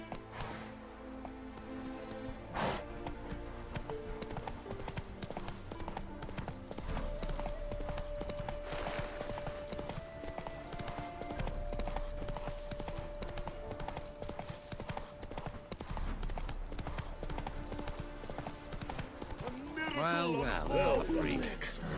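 Rhythmic clip-clop of hooves as the horse Roach gallops in The Witcher 3, a steady repeating beat under game music and character speech, with a short burst of other sounds near the end.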